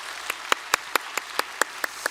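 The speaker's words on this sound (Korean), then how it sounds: "박수로 환영하도록 하겠습니다" Sparse, evenly spaced claps in a church congregation welcoming a new member, about ten distinct hand claps in a steady rhythm, moderately close and clear with quiet between them.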